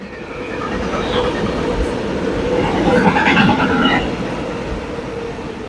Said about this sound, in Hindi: ये ट्रेन गुजर रही है